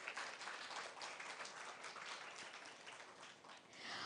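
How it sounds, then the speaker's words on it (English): Faint, steady applause from a conference audience at a Women in Sales event, heard from a distance and continuing evenly throughout. "I think this applause was good"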